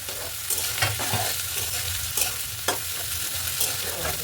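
Carrots and beans fry in a little oil in a pan: a close, continuous sizzle with repeated scraping stirs and clatters, loud and without speech.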